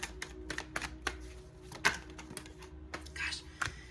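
Tarot cards shuffled by hand in a quiet room, giving a run of soft, close, irregular papery taps and flicks with short pauses between them.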